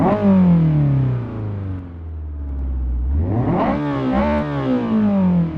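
A manual-gearbox car revs hard in Assetto Corsa on a touge mountain road, loud and close. The engine climbs and drops in pitch through repeated gear changes, with no talk over it.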